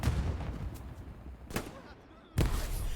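Gunfire and a sharp blast ring out in the WWII shooter game Hell Let Loose during a tournament match: a mid-distance explosion, sporadic shots and a second loud burst near the end.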